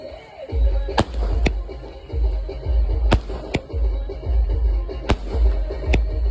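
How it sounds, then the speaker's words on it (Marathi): Firecrackers set off at an evening wedding procession: a handful of sharp, loud bangs at irregular intervals over a steady low rumble of outdoor crowd and music noise, with no talk. "फटाक्याचा रिझल्ट पण बघून जावा आता."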